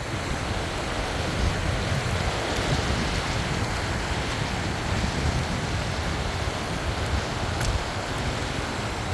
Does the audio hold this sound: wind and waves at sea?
yes